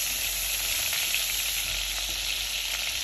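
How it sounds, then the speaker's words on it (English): Butter bubbling in a Staub pot, a dense, even sizzle with constant fine crackling that stays steady and close throughout, no voices. "once the butter is bubbly"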